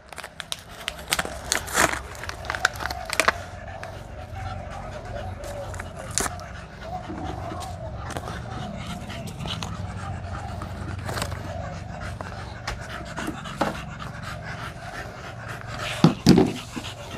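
A dog pants heavily and quickly close to the microphone, a steady rhythmic huffing that continues throughout, with a few thumps and faint outdoor noise.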